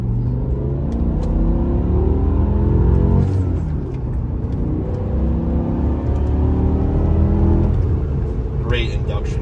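A BMW E60 M5 with a 6-speed manual pulls along the road, its engine intake sounding a loud, continuous harmonic roar whose pitch climbs and settles as it drives, over steady road rumble.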